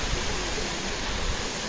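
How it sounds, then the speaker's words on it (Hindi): Rushing water from a waterfall in Dalhousie, Himachal Pradesh, a dense steady roar heard throughout, loud and close, with no voices. "पानी की भी आवाज़ आ रही होगी भयंकर वाली"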